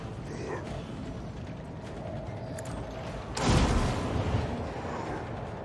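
In the Warhammer 40k: Rogue Trader video game, a single overcharged pre-fight shot lands as one loud, broad blast partway through, standing out over quiet mechanical game ambience.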